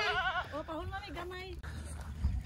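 Goats on a farm in the Philippines bleat in a series of wavering cries, loud and close, while people talk nearby.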